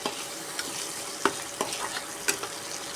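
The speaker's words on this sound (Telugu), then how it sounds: "ఇలా అల్లం వెల్లుల్లి పేస్ట్ అనేది పచ్చివాసన పోయేంత వరకు ఇలా కలుపుతూ ఉండాలి" Ginger garlic paste stirring and frying in a pan for a dondakaya (ivy gourd) masala curry, a steady low sizzle broken by several sharp scraping clinks of the spoon against the pan, close by, with no talking.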